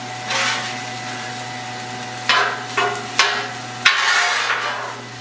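A spatula chops eggs, sausage, green peppers and onions on a hot griddle, four or five distinct scraping knocks over a steady sizzle and background hum, with no speech.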